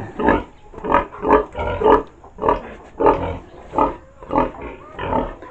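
A big farm pig, a sow, grunts in a steady series of about a dozen rhythmic oinks, close and fairly loud, with no talking over them.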